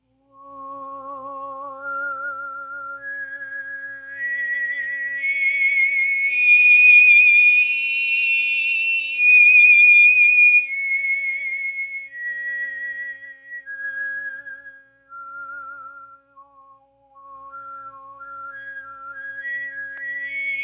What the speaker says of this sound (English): let's listen to a little demonstration of her, not doing a song, but just showing the overtone series